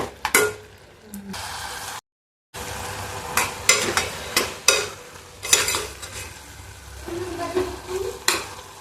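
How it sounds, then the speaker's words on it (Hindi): Makhana (fox nuts) with salt and coriander stirred in a pan over a low flame, giving a steady close sizzle broken by repeated scraping and clinking strokes of the spoon, with a brief silent gap early on. "अब अच्छी तरीके से मिक्स कर लेती हूँ और धीमी फ्लेम पर पकने देती हूँ।"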